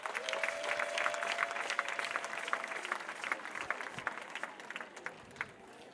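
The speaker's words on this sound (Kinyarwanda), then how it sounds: "Mwakomeye Imana amashyi ariko" A congregation claps during a church prayer service, a dense, steady patter of hands heard from a distance, fairly faint, fading slightly toward the end, with no talk over it.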